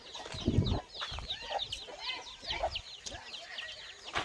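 A flock of free-range desi village chickens clucks and chatters steadily at a moderate distance on a farm, with no talk over the calls.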